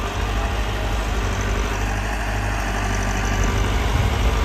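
A Massey Ferguson 375 tractor engine idles steadily nearby, a constant low diesel rumble with no change in pace throughout and no voices.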